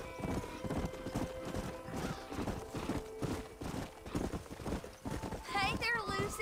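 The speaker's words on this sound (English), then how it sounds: "Miss, are you speaking to that horse?" Horse hooves clip-clop in a steady walking rhythm at close range, and a shrill whinny rises near the end, with people's voices mixed in at times.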